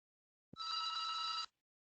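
A single telephone ring sounds once for about a second, a steady bright electronic trill that begins and ends abruptly against silence in a quiet lecture setting.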